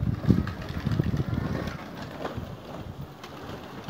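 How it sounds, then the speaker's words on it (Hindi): Pigeons released from a rooftop loft take off, a burst of close fluttering wingbeats and low cooing at the start that thins into softer flapping and wind noise. "कबूतर सारे खोल दिए।"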